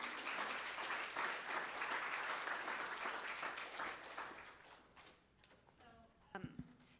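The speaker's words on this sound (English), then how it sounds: "a round of applause" Audience at an Ignite showcase event clapping in a broad, steady wave that fades out after about five seconds, leaving scattered claps and faint voices.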